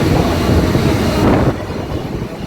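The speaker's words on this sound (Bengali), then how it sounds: "ট্রেন যমুনা সেতু পার হয়ে ঢাকা ডিভিশনে ঢোকার পরে" Chitra Express passenger train crossing the Jamuna bridge, a loud, steady, close rumble of wheels and carriages that eases slightly partway through, with no voices.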